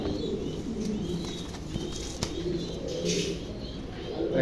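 A pair of long face pigeons coo softly among other pigeons in a loft, a steady low murmur with faint chirps in the background and someone speaking over it.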